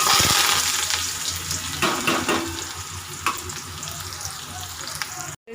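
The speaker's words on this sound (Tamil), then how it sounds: "அதே எண்ணெயிலே கடுகு போட்டுக்கலாம். கடுகு நல்லா பொரிஞ்சிட்டு சின்ன வெங்காயம் போட்டுக்கலாம்." Shallots frying in oil along with popped mustard seeds, giving a steady close sizzle with some crackles and stirring noises for the full stretch before a sudden cut at the end.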